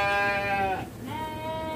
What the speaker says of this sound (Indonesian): Nampak kambing-kambing yang sedang makan rumput